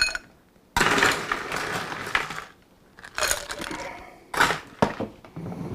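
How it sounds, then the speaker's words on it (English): Ice cubes are dropped into a Collins glass for a baijiu cocktail, in several distinct bursts of clattering and cracking with quiet gaps between them, close and clear. "And we're gonna fill it with some ice."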